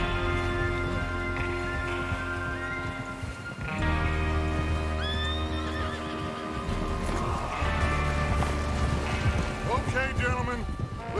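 Horses in Red Dead Redemption 2 whinny and snort as they are readied for a train robbery, with hoofbeats and a rumbling bed of game sound; several loud neighs rise over the mix, with voices talking throughout.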